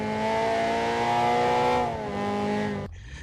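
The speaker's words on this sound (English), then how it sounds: "being able to downshift and still be back in power, hearing the VTEC going the whole time." A Honda Integra Type R DC2 revs hard into VTEC with a loud, sharp, high-pitched engine wail that sags once, climbs again, then cuts off abruptly.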